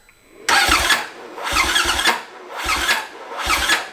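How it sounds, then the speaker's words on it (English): A Polaris RZR Turbo engine cranks over in four labored bursts, each turn catching on a hard spot as if the timing is off, with short pauses between the close, loud churning attempts. "So this is what it's doing. It's just, it hits a hard spot,"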